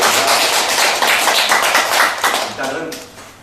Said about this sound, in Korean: 박수 쳐주십시오.